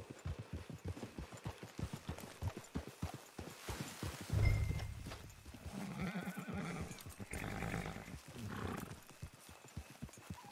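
In the Western video game Red Dead Online, a horse's hooves beat a steady clip-clop that gives way to a loud, snorting whinny, followed by softer movement and breathing.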